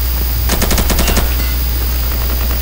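Rapid automatic gunfire in the video game Insurgency, one short burst of about a dozen quick shots lasting under a second, fairly loud over a steady background hum, with no talking.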